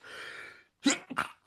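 A single person sneezes sharply, with a breathy intake before it and a quick follow-up burst, close and loud against a short hiss of background.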